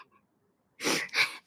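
A person sneezes twice in quick succession after a short quiet pause, close and fairly loud.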